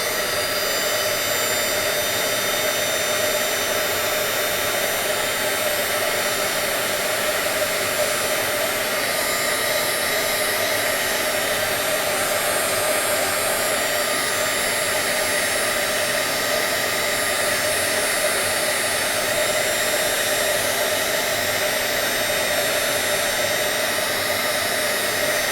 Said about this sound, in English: Little mini heat gun.